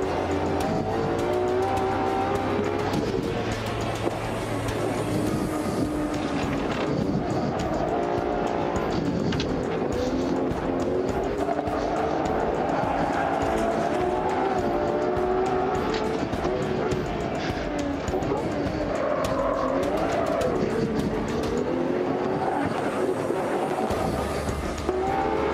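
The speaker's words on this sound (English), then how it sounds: "what great sound revving up in this sound shifting." A loud high-revving 2022 Ferrari 812 Competizione V12 engine roars steadily, pitch rising and falling through gear changes, sustained and close throughout, at Fiorano.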